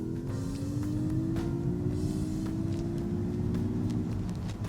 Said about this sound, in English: the MX-30 mimics what sounds like a petrol engine